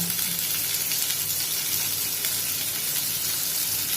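One broken dried red chilli and two green chillies fry in hot oil, a continuous close sizzle and crackle throughout.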